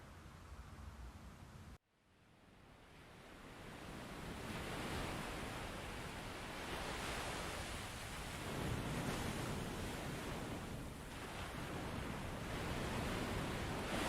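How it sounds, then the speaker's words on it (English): After a brief cut, a broad wash of surf noise swells and rolls continuously, like waves breaking on a shore with wind. "Listen to the sounds of the waves crashing."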